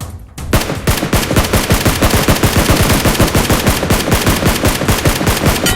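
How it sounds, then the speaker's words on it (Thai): Rapid automatic gunfire in PUBG Mobile, a dense, loud stream of shots fired close by that runs almost without pause, with bursts tightly packed throughout. "โอ้เขายิงกันอยู่ข้างหน้า"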